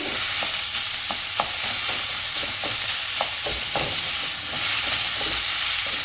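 Mushrooms dry-roasting without oil in a pan, frying to light brown with a steady hiss of sizzling and intermittent scraping stirs, no voices.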